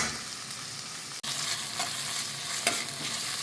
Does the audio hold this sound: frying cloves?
yes